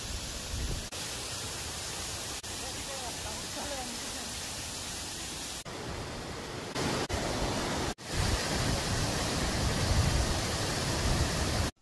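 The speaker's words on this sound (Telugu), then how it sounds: "ఈ జలపాతాన్ని నెమలి జలపాతం అని స్థానికంగా పిలుస్తారు. ఇది మొత్తం 2 స్టెప్పులుగా పడుతుంది." Nemali waterfall near Sadhuram, a two-step cascade, gives a steady, close broadband rush of falling water that continues through the clip with a couple of brief dips.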